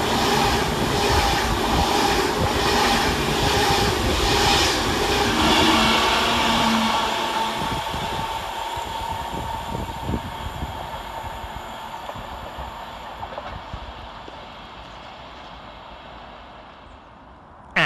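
Avanti West Coast electric passenger trains rumble past at close range at Tame Bridge Parkway station, loud at first with a rolling, clattering rush that gradually fades as they move away.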